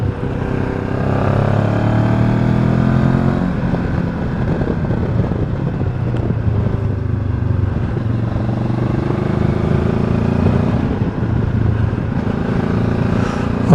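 QJ Motor SRT 700 SX 2025 motorcycle under way, its engine note rising and settling through the revs in a continuous loud drone with wind rush over the microphone, no speech.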